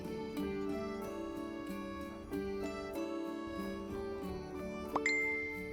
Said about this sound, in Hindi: तभी उसके फोन में एक नोटिफिकेशन आया।